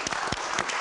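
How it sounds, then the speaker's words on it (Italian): Brief applause from a TV studio audience, a quick patter of several claps close by, with a faint voice underneath. "Un applauso."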